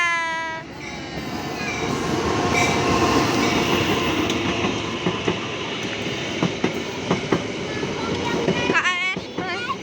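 A red train rolls past up close with a steady rumble and clickety-clack of wheels, and a horn sounds near the end, while people call out greetings over the noise.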